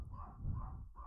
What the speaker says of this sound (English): If the dogs will be quiet.